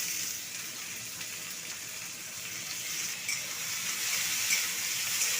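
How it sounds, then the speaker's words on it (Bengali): Potatoes coated in salt and turmeric fry in hot oil with dried chilli and onion, a steady broadband sizzle that holds even and close throughout, brightening slightly near the end. "লবণ আর হলুদ মাখিয়ে রাখা আলুটাকে দিয়ে দেবো"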